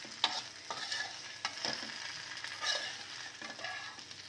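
Potato slices frying in a pan are stirred with a utensil, producing repeated scraping strokes over a steady sizzle, close and moderately loud, with no voices.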